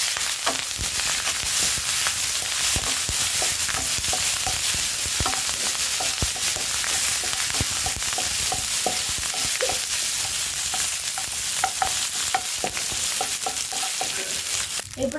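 Curry leaves, coriander and mint sizzle in hot tempering oil with seeds for Hyderabadi katta, a loud, continuous frying hiss broken by sharp crackles and pops and the scrape of stirring, with no voices.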